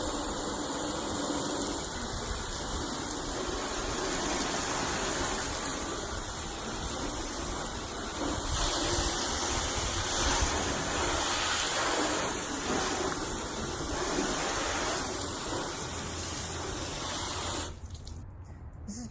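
A hose spray rinses a car waxed with Meguiar's Hybrid Ceramic Wax, making a steady rushing hiss of water that runs for about seventeen seconds before cutting off abruptly, with no speech.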